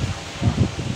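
Strong wind gusting through banana plants and trees on a farm, with soft rustling leaves swelling in two or three short surges over a steady low rumble of wind against the microphone.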